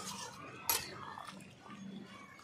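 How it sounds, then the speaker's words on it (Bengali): Stirring chicken masala curry in a pan, a sharp utensil scrape near the start, then soft intermittent scraping and clinks of a spoon against the metal pan over a low kitchen background. "চলো একটু ভালো করে নাড়িয়ে নিই"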